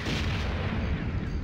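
Rocket fire in the Jet Force Gemini swamp level, a dense continuous roar of heavy booming blasts that holds steady and loud from start to finish, with no voices.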